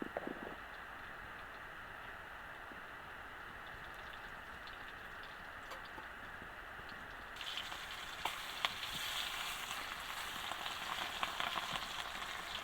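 Salted peda fish fries in a pan of hot oil, a faint steady sizzle and crackle that swells louder partway through, with no voices.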